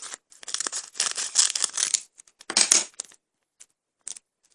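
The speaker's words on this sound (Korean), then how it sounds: "이거를 가위로 자를 거예요." Scissors cut a green paint packet for a DIY craft, making close, crinkly snipping and rustling bursts separated by short pauses, then a few faint clicks.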